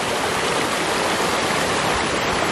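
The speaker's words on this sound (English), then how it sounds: "Pretty waterfall, sun shining through" A creek waterfall in Pisgah National Forest rushes in a loud, dense, unbroken roar of splashing water, close and alone with no voices.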